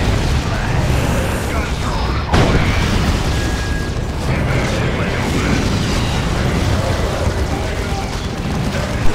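Battle in the strategy game Dawn of War 2: Retribution, with a Predator tank under fire: continuous booming explosions and gunfire form a dense, loud wall of noise, with a sharp blast near the middle and someone talking over it.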